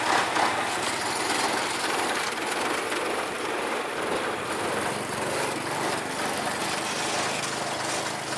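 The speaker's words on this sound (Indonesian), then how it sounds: "Lokomotif oleng miring." A D10 lorry locomotive runs on a narrow-gauge track flooded with muddy water, giving a continuous close engine drone with rattling, clattering wheel and rail noise throughout.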